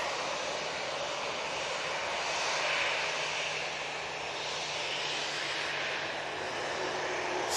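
Ryanair jet engines spooling up at Manchester Airport, a steady loud broadband roar with a low constant hum, swelling slightly midway and holding throughout with no voices.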